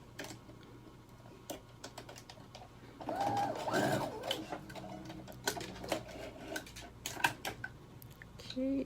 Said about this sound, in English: sew your elastic in place on the other end